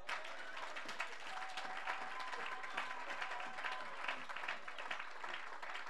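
A church congregation applauding during a service, dense sustained clapping from many hands filling the room with a faint voice beneath.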